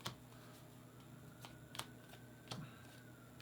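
Playing cards shuffled during a tabletop game rules walkthrough for Foxpaw, heard as several short crisp riffles and snaps spaced apart over a quiet room background.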